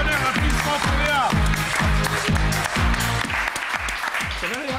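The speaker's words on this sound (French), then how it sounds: "Un tonnerre d'applaudissements pour Léa." A studio audience on a French TV talent show applauds a contestant named Léa, with dense sustained clapping throughout and a host's voice speaking over it.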